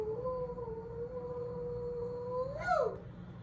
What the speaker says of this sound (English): Tekiah is one long sound.